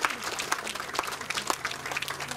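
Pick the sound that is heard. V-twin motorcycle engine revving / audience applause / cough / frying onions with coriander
audience applause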